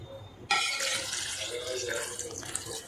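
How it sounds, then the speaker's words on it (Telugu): Water poured into a bowl of washed grapes for homemade grape juice: a close, steady rushing splash that starts half a second in and keeps flowing to the end. "వాటర్ పోసుకోవాలండి,"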